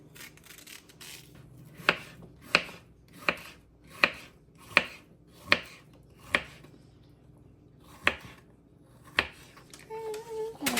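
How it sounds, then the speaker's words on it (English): Knife chopping through yellow squash on a cutting board, about ten crisp, evenly spaced chops close up, slowing toward the end, with faint kitchen background. "Now let's chop up that yellow squash."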